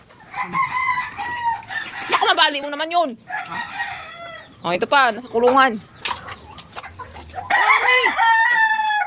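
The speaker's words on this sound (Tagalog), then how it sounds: "Ang daming manok. Maraming manok dito." Roosters crow repeatedly and hens cluck nearby, loud and close, while a person talks intermittently between the calls.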